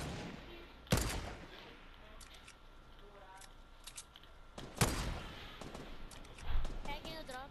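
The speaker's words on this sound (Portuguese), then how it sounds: "Deu tiro" Gunshots in the Fortnite video game ring out as a few sharp, isolated cracks spaced seconds apart over quieter in-game ambience, with players talking in between.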